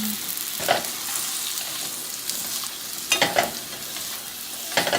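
Salmon pieces drop back into a hot pan with soy sauce and green onions, setting off a steady sizzle with a few sharp scrapes and tosses as the food is stirred, close and clear with no talking.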